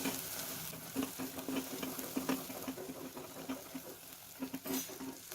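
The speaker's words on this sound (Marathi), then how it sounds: "आता हे मसाले आपण छान परतून घेऊ। तेल सुटेपर्यंत आपल्याला छान परतून घ्यायचं आहे ना" Spices sautéing in oil for a matar paneer gravy give a steady, close sizzle, with soft scraping stir strokes breaking through now and then and no voices.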